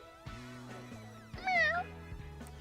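A cat meows once, a rising-falling cry, inside the video game Pokémon Legends: Z-A, set over steady low game music with a few soft tones before it.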